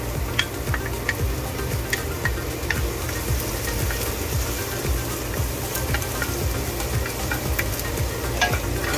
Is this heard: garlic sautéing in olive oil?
yes